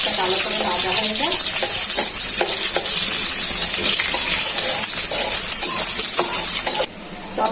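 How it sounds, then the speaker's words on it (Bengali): Chopped onions fry in hot oil with a loud, dense, continuous sizzle and crackle, overlaid by a few faint clinks of stirring. "পেঁয়াজটা ভালো করে ভাজা হয়ে গেছে"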